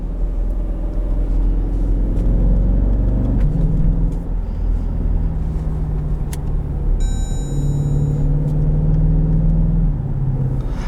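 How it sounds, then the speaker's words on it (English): A 2014 Jeep Grand Cherokee SRT in track mode accelerates hard, its engine rumbling loud and low as the pitch climbs and drops through several quick gear shifts, heard from inside without talk. "Now I am in track mode, so the gear shifts happen a lot quicker."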